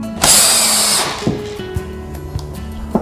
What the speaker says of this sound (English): Now I will screw in the remaining screws to the rest of the holes.